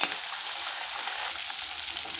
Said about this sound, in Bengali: মাছ দিয়ে দিয়েছি, আর মাছগুলো একদম কড়া করে ভেজে নেব